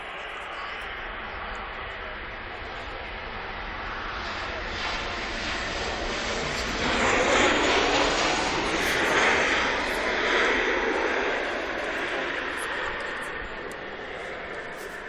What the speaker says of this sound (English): 737 MAX 8 to Sharm el Sheikh.